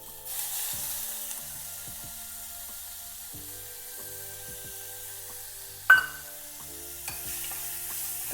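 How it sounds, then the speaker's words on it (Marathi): Onion sautéing in hot oil with mustard seeds, cumin and asafoetida for a quick vegetable dish, a steady soft sizzle with a few sharp clinks of a spoon against the pan and no talking. "कांदा पण चांगला परतून घ्यायचा"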